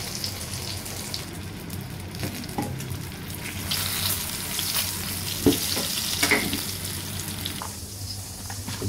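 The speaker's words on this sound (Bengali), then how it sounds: "এভাবে আপনারা উল্টে পাল্টে ভেজে নেবেন।" Round eggplant slices fry in a pan of oil with a steady, close sizzle, broken by a few soft clinks and scrapes as the pieces are turned.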